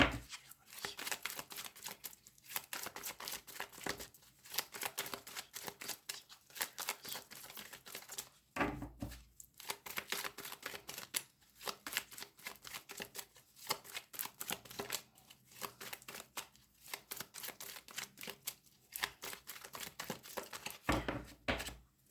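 Tarot cards being shuffled by hand for a reading, a crisp riffling and flapping that comes in repeated rapid bursts with brief pauses between them, close and fairly quiet, without voices.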